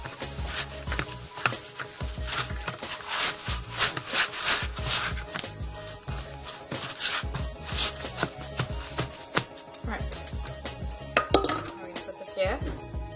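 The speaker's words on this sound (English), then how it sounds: "use our hands and get it all together" Hands work a stiff dough for vegan doner kebab on a counter, making irregular soft thumps, slaps and squelching presses in uneven bursts, close by and moderately loud.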